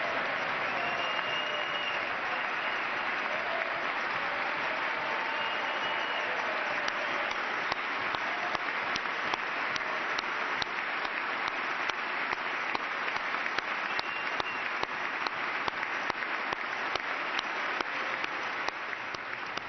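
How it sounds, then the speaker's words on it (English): A long standing ovation for Army Ranger Corey Remsburg fills a large hall at the State of the Union, dense sustained applause from a big crowd that holds steady throughout with occasional sharper claps. "the nearly 2-minute standing ovation and applause was in honor of Army Ranger Corey Remsburg"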